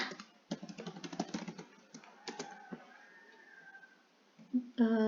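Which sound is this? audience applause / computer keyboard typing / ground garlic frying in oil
computer keyboard typing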